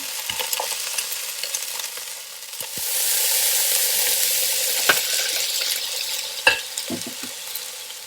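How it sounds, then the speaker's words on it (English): Beef chunks sear for boeuf bourguignon in a hot pan, a steady loud sizzle with a few sharp stirring knocks and scrapes, no talk. "When I'm happy with the sear, I'll take this batch out and put the next batch in"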